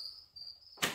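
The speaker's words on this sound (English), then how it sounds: "another week the crickets should be gone" Crickets chirp in a steady, high, continuous trill before a sudden, louder burst of broadband noise cuts in near the end.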